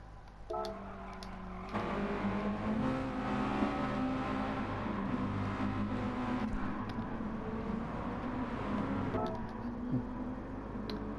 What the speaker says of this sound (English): He's full throttle on the grass